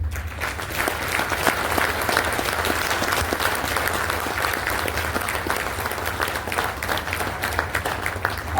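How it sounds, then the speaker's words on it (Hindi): Sustained, dense applause from a conference audience at a national human rights association event fills the whole stretch, steady and loud without pause. "अब की बार तालियों की गड़गड़ाहट देर तक गूंजनी चाहिए"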